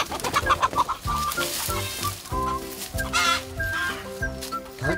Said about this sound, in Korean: 또 호시탐탐 닭장을 기웃거리는 백구까지 나타나자 닭장 안은 한바탕 난리가 났습니다.